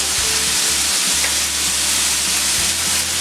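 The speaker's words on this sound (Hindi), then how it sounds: "अब डालेंगे टमाटो सॉस," Tomato sauce hits a pan of sizzling paneer mixture, and a loud, dense frying crackle with a few stirring scrapes carries on continuously throughout, with no talking.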